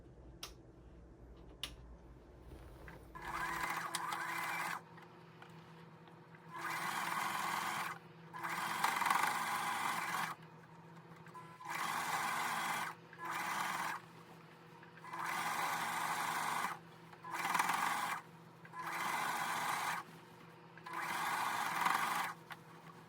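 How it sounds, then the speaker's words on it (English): A sewing machine top-stitches the outer seam of a fabric bag in short, steady bursts of whirring stitching, about eight runs separated by brief pauses, close and clear with no talk. "I'm going to do one seam top stitch the outside of this bag"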